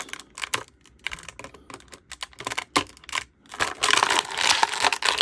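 Plastic straps snipped away from a 1990 Playmates Teenage Mutant Ninja Turtles Storage Shell Donatello action figure in its box, giving a series of irregular clicks, crinkles and cuts with a busier burst of crinkling near the end.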